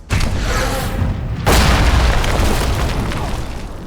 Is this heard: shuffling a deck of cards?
no